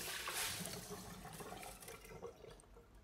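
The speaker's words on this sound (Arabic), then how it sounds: "بدي صفي المي" Water pours and splashes as soaked rice is drained, a steady rushing flow that tapers slightly toward the end, close and fairly loud with no talking.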